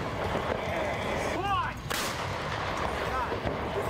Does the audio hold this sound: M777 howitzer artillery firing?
yes